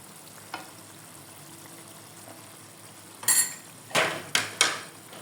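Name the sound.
ghee sizzling as it is added to raw banana kofta curry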